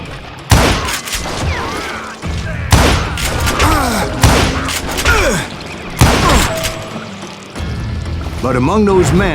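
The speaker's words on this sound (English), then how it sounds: "a fusillade of bullets come raining down from on high" A loud fusillade of gunfire erupts in Call of Juarez: Gunslinger, with repeated bursts of shots in rapid clusters, mixed with voices speaking over the shooting.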